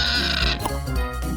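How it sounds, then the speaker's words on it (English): A cartoon pig oinking in a children's farm animal matching puzzle game, a short loud grunt-like oink with a bright musical tone over it, lasting about a second. "It's a pig."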